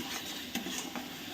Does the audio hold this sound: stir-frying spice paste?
yes